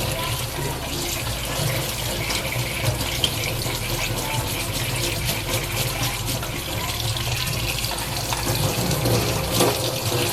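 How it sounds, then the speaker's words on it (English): A toothbrush gently scrubs a Voltas Beko dishwasher filter under a running tap at a sink, making a steady, continuous rush of water with faint scrubbing texture throughout. "I'll just gently rub it under running water so that all this gets cleaned"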